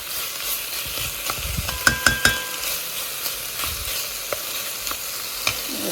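Potatoes frying in a pan until brown, a steady close sizzle with a few sharp clicks and scrapes of stirring, and no talk.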